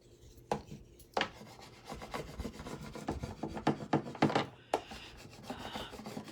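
A burnishing tool rubs over a chalkboard sign in quiet, irregular scraping strokes with soft taps, close by and with no talking.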